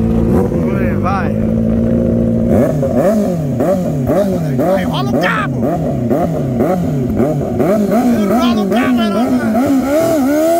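Engines revving hard on a Jaguar XJ6 turbo and a Nissan GT-R at a street acceleration run, rising and falling in repeated surges after a steady idle, loud and close under shouting voices.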